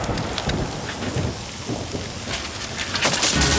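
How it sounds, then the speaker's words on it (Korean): A storm with strong wind, heavy rain and thunder, a dense steady downpour with gusty rushing and low rumbles building louder toward the end. "바로 엄청난 강풍을 동반한 폭풍이 불어닥친"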